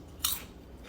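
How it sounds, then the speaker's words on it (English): A single sharp crunch from biting into crispy roasted Brussels sprouts and broccoli, one brief close burst in a quiet room with nothing after it. "ready for the crunch?"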